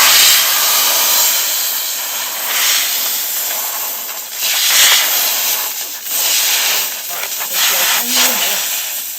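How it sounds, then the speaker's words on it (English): A pressure water jet sprays moss off a Citroen 2CV, a loud close hissing rush that swells and dips in bursts as the spray moves, with brief pauses between passes. "The jet will get rid of that"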